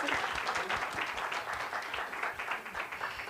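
An audience at a live Kenyan youth debate event gives a sustained round of applause, steady and moderately distant, filling the whole moment without a break.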